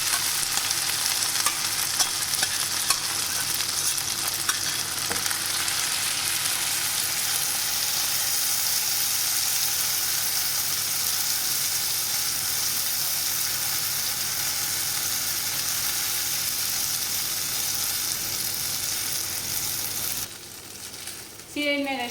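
Raisins fry and are stirred in a pan with a dense, even sizzle that runs for the whole stretch, dropping slightly near the end as something is moved, with faint scraping.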